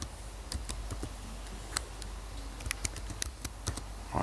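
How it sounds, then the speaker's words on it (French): Someone types a password on a computer keyboard: a short run of crisp, irregular key clicks, close and fairly quiet, with brief pauses between strokes and no talk. "je clique ici, je tape le mot de passe que j'ai choisi."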